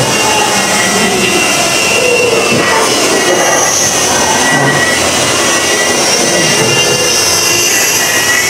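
DJI Flip drone flying during a test flight, a loud, steady high-pitched whine and whir of the propellers held close and unbroken throughout.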